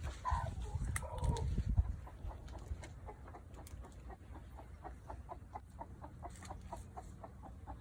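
A hen in a backyard garden in America clucks in a steady run of short, evenly spaced calls at close range. Rustling and handling noise come first, then the clucking continues alone with no talk.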